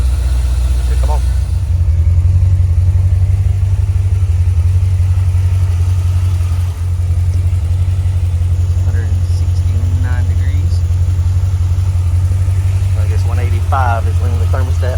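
A C4 Corvette engine idles steadily with a continuous deep, even rumble and no sharp revs, while faint voices come and go over it.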